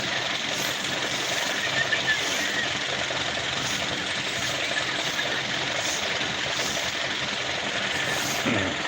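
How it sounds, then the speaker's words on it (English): An ice delivery truck in Thailand runs close by with a steady, loud engine drone that holds unbroken throughout, covering the outdoor surroundings. "sorry about the noise of the ice truck behind us."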